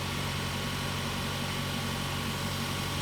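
A 2019 Chevy Equinox Premier idles after a remote start, giving a steady, even engine hum with a low rumble and no changes in pace.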